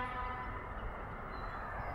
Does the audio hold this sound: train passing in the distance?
yes